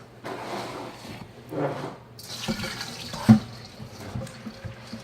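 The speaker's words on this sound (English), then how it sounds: "I've got my colander here in the sink, and I'm just going to rinse all of the water off of it" Water from a sink sprayer runs in bursts over sprouted wheat in a colander, splashing and gurgling in a few uneven pulses with a brief clatter midway, fairly quiet and close.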